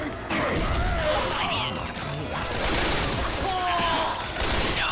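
Dense bursts of weapon fire in a Left 4 Dead 2 zombie fight, loud and continuous with crashing impacts and clattering mechanisms, overlapped by excited players' voices.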